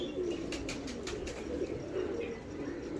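A hand-held pigeon gives soft, low cooing close by, its murmuring calls repeating over faint background noise and a few light clicks.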